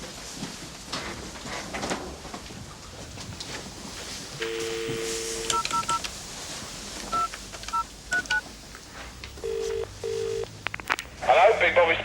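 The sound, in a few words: telephone being dialed on a speakerphone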